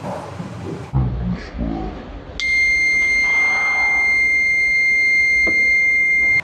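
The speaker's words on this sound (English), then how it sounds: "when it is connected, buzzer stop and disconnected. Buzzer blows." A steady electronic buzzer drones continuously after a brief rustle, loud and close, holding a high pitched tone with no pause.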